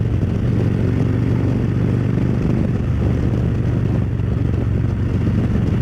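Motorcycle riding along a road on a hot day, a steady loud engine drone with constant rumble and wind rush close up, no pauses.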